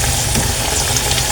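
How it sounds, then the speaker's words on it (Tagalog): Sweet potato chunks are stirred in sugar in a hot pan for kamote cue, giving a loud, steady sizzle of frying with soft scraping, continuous and close with no talk. "halo-haloin na natin siya para po totally na siyang mag-coat yung mga asukal"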